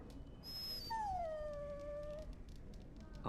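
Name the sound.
dog whimpering in video game Dragon Age Origins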